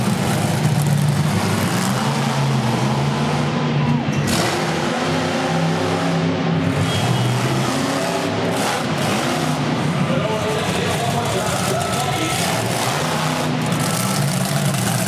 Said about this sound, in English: we're starting off the first truck out in freestyle attacking the FMX obstacle.